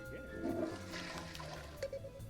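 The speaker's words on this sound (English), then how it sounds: "the sound effect of it being poured, the drink being poured, ends before I serve it" Drink being poured in the video game Cook, Serve, Delicious!, a faint, liquid trickling sound effect that continues steadily under quiet background sound.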